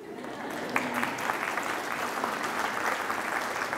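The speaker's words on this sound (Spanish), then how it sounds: "Un aplauso a Facebook." An audience at a talk claps together in a steady, moderately distant round of applause that holds evenly throughout, with faint voices underneath.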